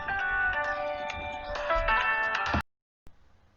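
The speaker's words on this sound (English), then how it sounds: "Why does the phone always ring when I'm doing something?" A phone rings with a bright, tonal electronic ringtone that plays steadily for about two and a half seconds, cuts off abruptly, then leaves only faint room noise.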